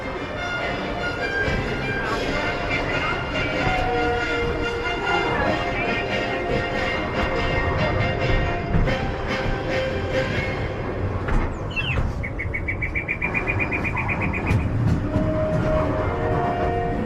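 Disneyland Railroad steam train moving along its track at Disneyland Paris, a steady rumble and rattle of the ride heard up close, with a long tonal whistle-like squeal partway through.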